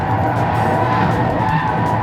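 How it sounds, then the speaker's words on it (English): Tires squeal steadily under the loud drone of a Tata Altroz Racer driven hard on a race track on MRF low rolling resistance tires, a continuous screech with no pauses. "that is why you can hear the tires squeal a lot"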